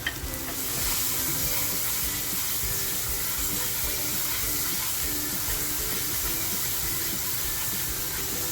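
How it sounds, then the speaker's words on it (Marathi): Masala spice paste frying in a pan for a spicy Maharashtrian crab curry, giving a loud, steady, dense sizzle that runs unbroken with occasional stirring and no talk. "आता जो मसाला करून घेतला आहे तो मसाला टाकते आपल्याला मसालासुद्धा छान असा फ्राय करून घ्यायचा आहे"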